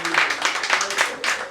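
A small crowd at a live music event claps in quick, rhythmic bursts, fairly close and lively, with some faint background tones underneath.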